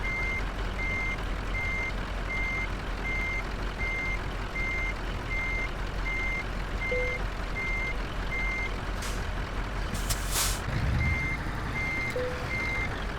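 A Scania truck in Euro Truck Simulator 2 reverses with a regular series of evenly spaced reversing beeps over a low engine rumble, with a couple of brief air-brake hisses near the end.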